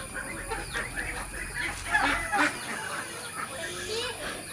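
A hen clucks in short, scattered calls at close range over a busy farmyard background, with people talking nearby.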